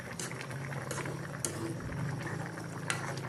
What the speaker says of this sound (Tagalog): kumukulo na po ang ating ulam